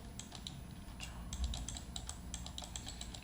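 A computer keyboard is used during 3D modeling work, with light, rapid key clicks in uneven bursts, close and quiet over a low steady hum, with no talk.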